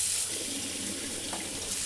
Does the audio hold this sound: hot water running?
yes